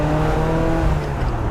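Ferrari 355 Spider with a naturally aspirated V8 drones steadily at a constant engine speed, a loud, close, humming tone with strong low harmonics.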